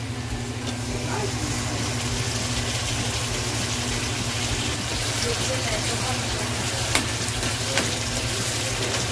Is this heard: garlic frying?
yes